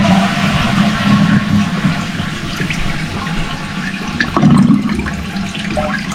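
A concealed toilet cistern flushing, with a loud, close rush of water pouring and swirling through the bowl for several seconds, surging again midway before easing off.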